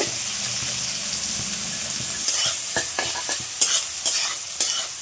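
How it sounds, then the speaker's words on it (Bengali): Chopped carrots stir-fried in a pan for mutton chowmein, a steady sizzle with scraping stirring strokes that turn frequent and louder in the second half, no talking. "এখন দিয়ে দেবো গাজর কুচি। দিয়ে ভালো করে নেড়ে চেড়ে হালকা করে ভেজে নেব।"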